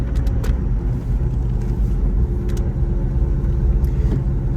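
An early Range Rover Classic with a soft, torquey V8 drives along. Its steady mid-level engine rumble and road noise hold throughout, with no talking.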